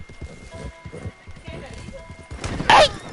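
Horse hooves clip-clop in rapid rhythmic beats in Red Dead Redemption 2 as a horse runs and collides with a tree, ending in a sharp crash, with people talking over the game sound.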